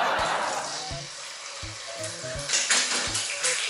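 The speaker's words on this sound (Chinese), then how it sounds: "你们讲我现在煎蛋哦" Eggs frying in a pan while a large batch of instant noodles is prepared, a steady close sizzle with a few soft knocks and clinks of a utensil against the pan.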